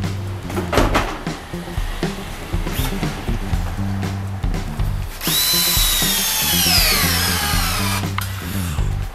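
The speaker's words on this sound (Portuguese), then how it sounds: "O Gabriel já tá parafusando as peças aqui, ó, nesse sentido" Power drill driving screws into wooden deck boards on a timber balcony, heard as a run of short clattering bursts followed by a long, loud whine that rises in pitch near the end.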